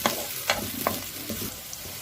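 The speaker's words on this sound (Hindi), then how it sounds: "अब हम प्याज को जो है अच्छे से ब्राउन कर लेंगे" Onions browning in a hot pan for chicken kaleji matar, a continuous close sizzle broken by a few quick stirring scrapes.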